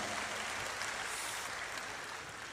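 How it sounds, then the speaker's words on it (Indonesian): An audience claps steadily for a university rector at a comedy show hosted by Cak Lontong, a soft, even wash of applause that holds for a couple of seconds before cutting off. "Tepuk tangan buat rektor kita tercinta."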